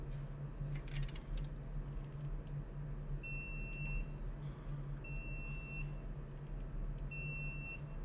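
Three short, bright electronic beeps from a tool after tightening during CV axle repair on a 2019 Ford Fusion, spaced about two seconds apart, heard over a steady low hum and background noise.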